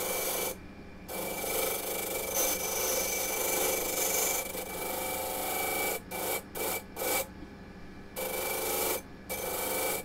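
A small brush scrubs burrs off a freshly cut brass mortice key, a loud, continuous rasping rub broken into several short strokes near the end.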